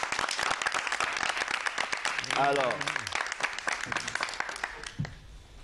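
A studio audience on a TV set applauds a guest, a dense burst of clapping mixed with a presenter's voice and crowd noise, tapering off toward the end.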